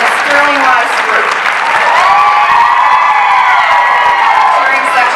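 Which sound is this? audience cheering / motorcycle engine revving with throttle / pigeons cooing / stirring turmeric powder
audience cheering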